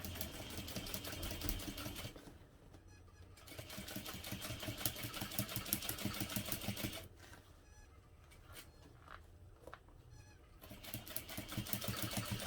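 A sewing machine runs a long seam on a fabric tote bag, a dense rapid needle chatter in three stretches broken by quieter gaps, faint and steady with no talking.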